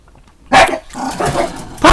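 Puppies barking loudly and close by, several sharp yaps and growly barks in quick succession over a brief span with no talking.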